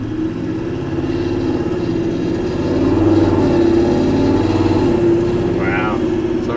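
A Toyota 79 series with the new 8-speed automatic accelerates hard, its engine a steady, close, low drone that swells slightly midway through, with voices in the cabin underneath.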